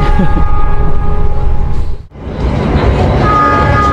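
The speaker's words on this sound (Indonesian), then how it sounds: "kereta api Argo Dwi Pangga sudah melintas stasiun Randegan dan kita berada di kecepatan 114 km per jam" Argo Dwipangga express train running at about 114 km/h, a loud continuous rumble and roar of wheels and carriage noise that briefly dips, as if passing something, then builds back to a steady rush.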